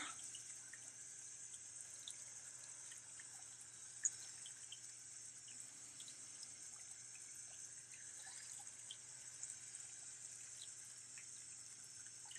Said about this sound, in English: Can you guys hear the water fountain okay?